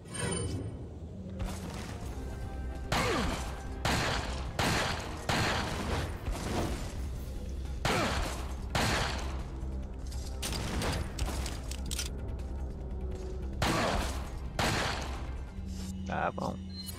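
Gunfire in the video game Resident Evil 4, with repeated loud broadband shots and bursts in irregular clusters across the stretch, mixed with game sound effects and a player talking throughout.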